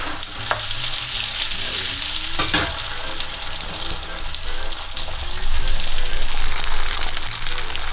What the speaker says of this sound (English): the garlic and the chili starting to cook